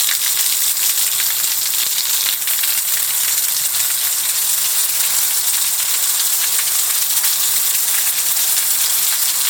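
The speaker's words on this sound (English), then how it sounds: "that's a lot of rain." Heavy rain pours down outside a home with a front garden, a dense, loud, continuous hiss of drops on surfaces with no letup and no voices.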